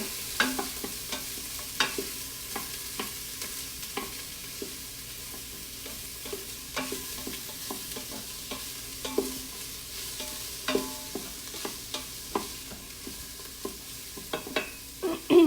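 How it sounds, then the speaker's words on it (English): Vegetables for chili sautéing in an Instant Pot, a low steady sizzle with regular scraping strokes of a spoon stirring against the inner pot, close and fairly quiet, with no talking. "you simply just want to saute them just until they're just translucent and soft"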